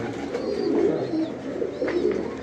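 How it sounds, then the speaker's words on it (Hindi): Pigeons coo softly and continuously in a rooftop breeding setup holding some 40 to 50 breeder birds, low murmuring calls overlapping at close range with faint higher chirps above. "ये काफ़ी तकरीबन 40-50 से ज़्यादा ब्रीडर कबूतर हैं ये यहाँ पे"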